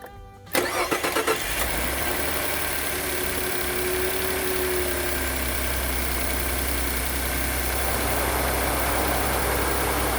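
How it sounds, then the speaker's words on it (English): A Ford F150 with freshly changed spark plugs cranks briefly with a rapid starter whir, then fires and settles into a steady, even, close-up engine idle with a low constant hum. "let's go ahead and start this thing up and see how it runs"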